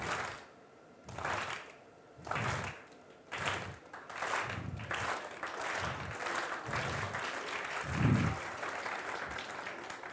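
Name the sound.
audience applause at a science show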